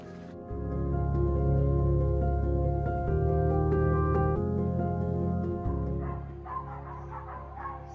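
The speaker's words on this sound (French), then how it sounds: "Ça y est, je suis repéré par les chiens." Penned hunting dogs bark along a rural hiking trail in France, a steady run of overlapping barks and yelps at moderate distance that eases off near the end.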